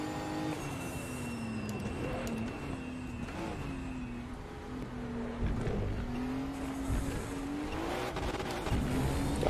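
A Group 5 race car in a VR racing game drones loudly and close, the engine note repeatedly bouncing off the rev limiter in choppy stutters between gear changes, with brief tire squeal.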